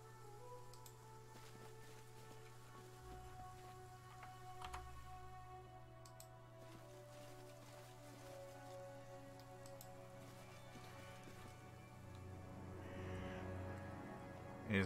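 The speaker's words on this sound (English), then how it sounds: "Raining, huh?" Light rain falls in the video game Pathfinder: Kingmaker, a faint, steady patter of drops beneath a low ambient hum throughout.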